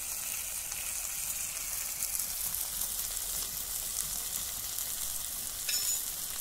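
Steady close sizzling and frying in a pan as turmeric and Kashmiri chilli go in, a continuous hissing crackle throughout with a small clatter near the end and no voices.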